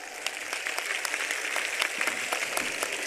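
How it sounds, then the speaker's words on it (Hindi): A rally crowd in Bhadra bursts into loud, dense applause for MP Rahul Kaswan, a steady wash of many hands clapping for the whole stretch with no talk. "जोरदार ताली के साथ"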